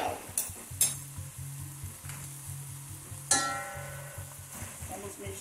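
Meat and paprika (colorau) sizzle softly in a pan while a spoon stirs them, scraping and knocking against the pan a few times, with a couple of sharper clinks.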